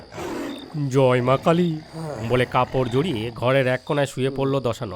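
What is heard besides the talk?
tiger roaring in the distance, audio story effect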